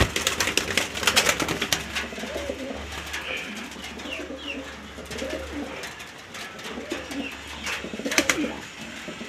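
Black Andalusian exhibition pigeons coo repeatedly at close range in a farm loft, soft throaty calls overlapping with faint chirps and background rustle, with no talking.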